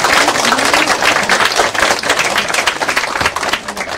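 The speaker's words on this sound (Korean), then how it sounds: "여러 가지 박수를 보내주시기 바랍니다" Crowd applause at a political party's second anniversary ceremony, a dense, loud, continuous burst of many hands clapping for about four seconds, with no talk over it.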